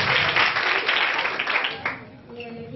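Applause for a quiz team at a school quiz contest: a dense burst of clapping from a room of people, loud at first and fading out after about two seconds.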